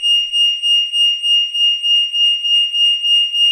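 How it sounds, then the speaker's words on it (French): A loud, piercing home security alarm pulses steadily in rapid repeating beeps, continuous and insistent throughout, with no one speaking. "mon alarme se déclenche pour m'avertir que quelqu'un est rentré chez moi."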